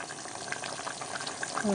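Potato and onion masala curry bubbling in a pan on the stove, a steady close hiss of simmering liquid with a few soft pops and a faint voice in the background.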